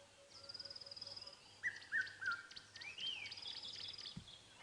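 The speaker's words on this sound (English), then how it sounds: "That's the beautiful Cape turtle dove or ringneck dove." A Cape turtle dove, also called a ring-necked dove, calls from a nearby tree at sunrise on a safari drive, its repeated cooing phrases rising over a soft bed of other birdsong and insect buzz.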